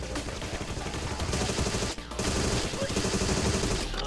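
Continuous SMG fire from the Agent 64 game, dense overlapping bursts of rapid shots from several weapons, sustained and loud with only a brief break midway and a voice talking over it.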